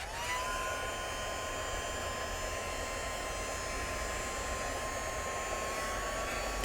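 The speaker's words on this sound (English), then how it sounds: "let's get my heat gun and just get rid of those marks" A heat gun blows a steady, loud whirring hiss with a thin whine running through it as it clears marks from stitched fabric on a needle roll, holding an even level from start to finish with no talking.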